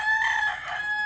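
A rooster crowing close by among a large flock of chickens, one sustained crow filling the moment.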